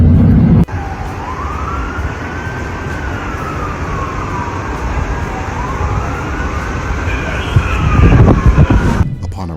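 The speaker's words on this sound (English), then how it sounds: "we just saw like 6 cop cars like zoom right past us" Several police car sirens wail as the cars speed past, the rising and falling tone sweeping by fairly loud against steady traffic rumble, with a louder burst of noise near the end.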